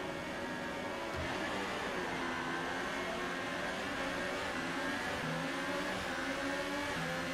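An F1 race car engine revs hard at the race start in the F1 2018 video game, a dense, continuous buzzing roar with rising and falling pitch that holds steady and loud throughout, with no talking.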